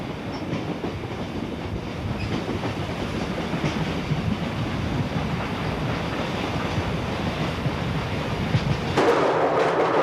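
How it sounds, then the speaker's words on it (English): A train rumbles steadily along the rails, beginning a 15-mile climb from Bartlett to Crawford Notch, with a continuous low roar and faint rhythmic clatter, loud and close, growing briefly harsher near the end. "Leaving Bartlett, the train begins a 15-mile climb to Crawford Notch."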